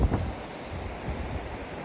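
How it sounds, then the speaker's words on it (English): Steady wind buffets the microphone with a low, rumbling roar on a beach at Hatteras, and faint surf washes in the background. "It's kind of windy out here"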